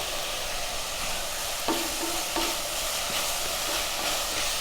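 Crushed garlic, five or six cloves, sizzles in hot oil in a pan with softened ingredients while being stirred, a steady fry under a few light scraping strokes.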